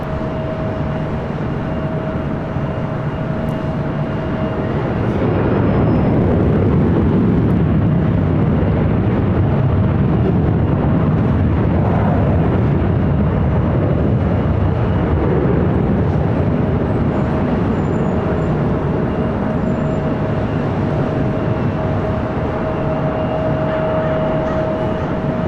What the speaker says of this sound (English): It's a landing like that, you didn't even know you landed.